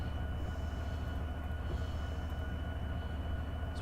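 A CSX passenger train locomotive runs in the Run 8 train simulator game, a steady low rumble and drone of engine and rolling wheels, continuous and even throughout.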